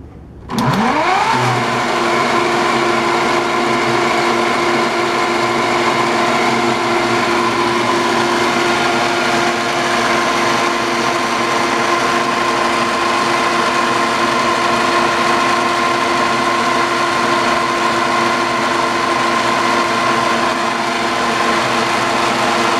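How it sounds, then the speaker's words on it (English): Battery-operated fans on a custom GI Joe Killer Whale hovercraft toy spin up quickly, then keep a loud, steady motor whine and buzzing whir close by for over twenty seconds. "you just press that trigger and then the fans will work"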